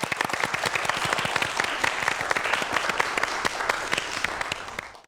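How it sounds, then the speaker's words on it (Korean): Lively applause from a student audience at a science lecture, with dense, crisp clapping that is steady and close for about five seconds before tapering off at the end. "박수 부탁드립니다."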